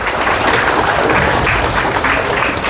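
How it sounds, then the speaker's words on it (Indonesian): An audience applauds Indonesia's national police at a talk on peace in Islam, a dense, steady wash of many hands clapping close and loud throughout, with no voices over it. "tepuk tangan dulu untuk Polri Pak"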